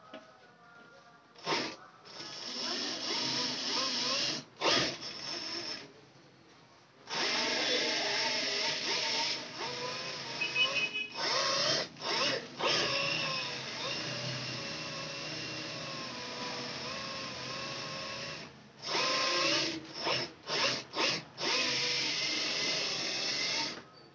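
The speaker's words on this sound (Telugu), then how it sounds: "ఇప్పుడు దీన్ని మనము వన్ సైడ్ స్టిచ్ చేసుకోవాలన్నమాట" A sewing machine stitches dori piping onto a blouse with a single presser foot, running in long steady close bursts broken by brief pauses and a few short starts.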